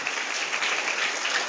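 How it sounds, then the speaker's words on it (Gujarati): A crowd claps steadily and fairly loudly at a school enrolment festival held at a primary school in Soneth village, Suigam taluka, in a short, continuous burst of applause. "તાળીઓથી વધાવીએ"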